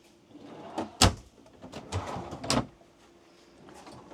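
Drawers in a 2016 Tiffin Allegro Red 33-foot RV slide and bump shut a few times nearby, with a sharp knock followed by softer rolling and thudding sounds.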